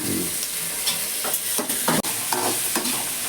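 Onions, green chilies, curry leaves and coriander sautéing in a pan, with steady frying sizzle and repeated stirring scrapes in short bursts, close and moderately loud, no talking.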